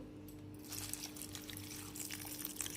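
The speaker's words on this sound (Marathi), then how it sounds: "हे सगळं थोडंसं पाणी घालायचं" A little water is poured over garlic, ginger and coriander for moong dosa batter, a faint, quiet trickling splash that starts after a short silent moment and continues steadily.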